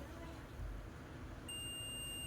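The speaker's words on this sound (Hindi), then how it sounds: "ये देखिए यहाँ पे बीप की साउंड आ रही है, और रीडिंग यहाँ पे 0 हो जा रही है" A multimeter set to continuity range beeps while probing a blown diode during repair of an Ahuja BTZ7000 amplifier. A steady, high-pitched, faint tone starts halfway through and holds over low background hum.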